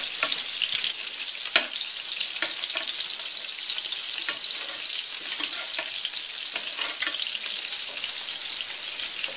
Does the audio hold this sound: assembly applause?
no